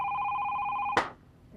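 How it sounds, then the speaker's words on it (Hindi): An old telephone bell rings in a steady electronic trill, close and clear, then cuts off abruptly with a sharp click as the receiver is picked up, leaving a quiet room. "फोन की घंटी बजी शीना।"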